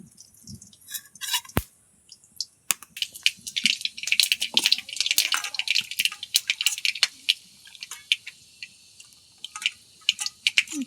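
Mustard seeds splutter and pop in hot oil, giving irregular sharp crackles and ticks that come close and fairly loud, with no talking.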